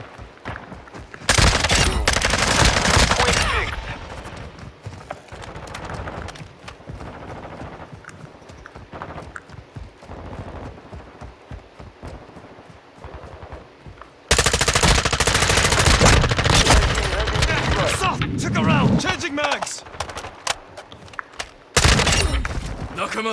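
Gunfire in Call of Duty: Modern Warfare II, loud rapid automatic bursts that come and go across the stretch, with quieter gaps of scattered shots and game noise between them.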